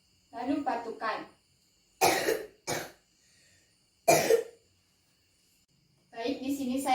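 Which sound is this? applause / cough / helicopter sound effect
cough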